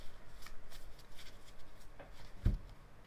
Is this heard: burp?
no